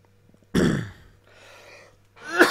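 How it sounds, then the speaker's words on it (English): A single harsh throat-clearing cough close to the microphone, followed by a softer breathy rasp and a second rough cough burst, over a quiet low hum. "So I've got the bad cough as ever."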